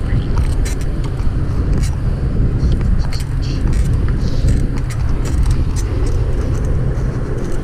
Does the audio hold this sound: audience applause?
no